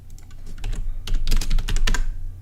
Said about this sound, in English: Sorry, I'm clicking through my tabs here.